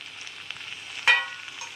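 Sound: mustard and cumin seeds tempering with frying okra

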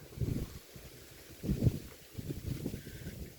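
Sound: strong wind

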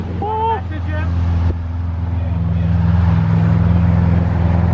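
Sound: Lamborghini Aventador car driving

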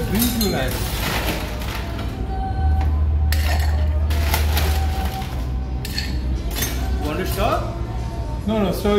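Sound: stirring a Negroni cocktail, utensils clinking

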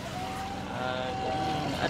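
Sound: longtail boat engine running

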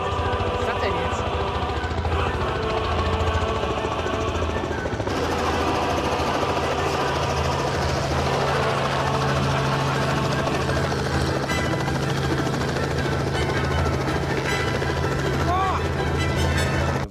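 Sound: helicopter engine

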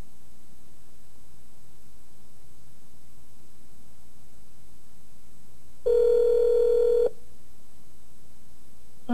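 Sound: phone dialing tones from Chrysler car hands-free system

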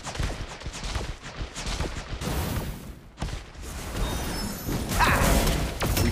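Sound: walking barrage attack in video game Marvel Super War

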